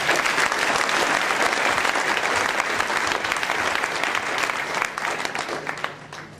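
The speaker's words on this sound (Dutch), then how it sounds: "Geef haar een applaus alsjeblieft." An audience gives a woman a round of applause, loud, continuous clapping filling the hall for about six seconds before tapering off at the end.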